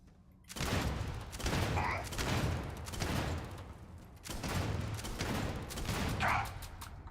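Gunfire from Starfield, a space role-playing video game, bursts of several rapid shots with a brief gap in between, fairly loud against a busy game background.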